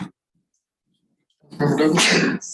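A single sharp sneeze rings out in a city council meeting, sudden and fairly loud after a moment of near silence, following a brief spoken name.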